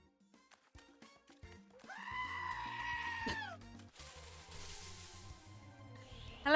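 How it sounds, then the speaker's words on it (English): A goat scream in a Pokémon game, heard as a loud, sustained bleating cry amid looping game music and chiming effects, ending abruptly. "Someone found the goat scream."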